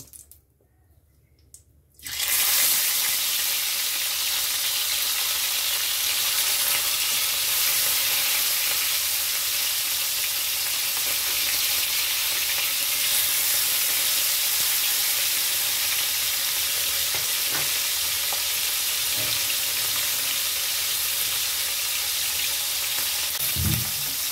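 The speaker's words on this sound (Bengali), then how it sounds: "নুন হলুদ মাখিয়ে রাখা বাটা মাছগুলোকে আমি ভেজে নেব।" Bata fish rubbed with salt and turmeric fry in hot oil. After a brief quiet start, a loud, dense, steady sizzle takes over and holds evenly throughout, with a few faint knocks.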